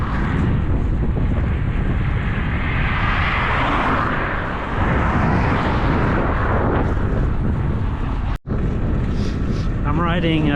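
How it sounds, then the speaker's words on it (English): Strong headwind roaring across the microphone during a bike ride north on a parkway, a steady loud buffeting rush that fills the whole clip with a brief dropout near the end. "Got a pretty strong headwind."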